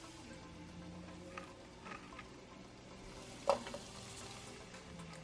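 Garlic and onions fry in a pan, giving a quiet, steady sizzle with a brief clatter of stirring partway through.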